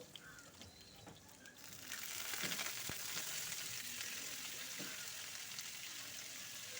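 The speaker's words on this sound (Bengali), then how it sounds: "আলু আর ব্রোকলিগুলোকে ভালো করে ভেজে নিচ্ছি আমি লাল করে" Potatoes and broccoli fry in about two spoons of hot refined oil in a wok, giving a steady, dense sizzle that swells louder after the first couple of seconds and continues close up, with a few faint stirring clicks and no talk.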